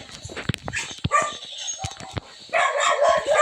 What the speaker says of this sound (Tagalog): May aso. Tanga ng aso yan. Siberian Husky.